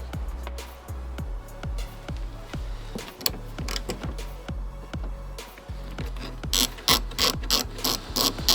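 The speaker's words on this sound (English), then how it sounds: "I can start the process of unscrewing all of the plastic trims" A ratchet on a Land Rover Discovery 4 clicks in steady, close repeated strokes while the plastic trims are unscrewed, then gives way to a louder, sharper burst of mechanical clatter near the end.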